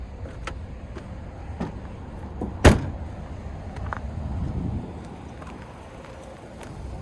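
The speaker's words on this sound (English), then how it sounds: "You pull these on either side to release the back seat." On a 2026 Nissan Sentra SL, the rear seat release is pulled and the seatback folds, giving one sharp, close clunk against a quiet, steady cabin background.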